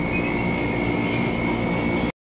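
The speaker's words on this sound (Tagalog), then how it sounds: "bali maandar na yung motor, smooth na yung tunog" A repaired electric fan motor runs on test with a steady, smooth hum and a constant tonal whine, loud and close, then cuts off abruptly.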